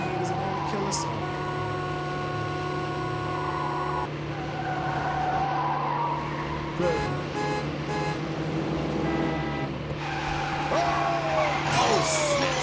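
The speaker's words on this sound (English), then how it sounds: "Those cars just crashed." Cars skidding and crashing during a high-speed chase in the video game Killing Malcolm X, with squealing tires, revving engines and a blaring alarm-like tone, loud and continuous, while a voice talks over the game sound.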